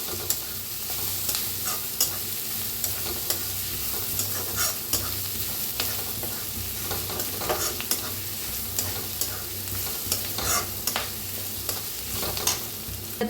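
Ground spice paste for a rustic village brinjal dish roasts in a pan, giving a soft steady sizzle broken by frequent scraping clicks of a spoon stirring, close and fairly quiet with no talk.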